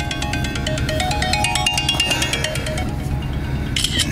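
A mobile phone rings for an incoming call inside a large Lincoln Mark V luxury car, a steady electronic tone pattern carrying loudly throughout over a low interior hum.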